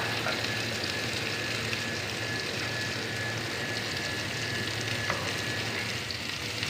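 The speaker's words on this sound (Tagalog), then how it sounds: "Siyempre, magigisa tayo ng sibuyas" Sliced onions sauté in oil in a pan for a home-cooked sardine dish, giving a steady, dense sizzle that holds at an even level throughout with no talk over it.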